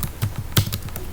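Rapid keystrokes clatter on a computer keyboard, a quick uneven run of crisp close clicks with no voice over them.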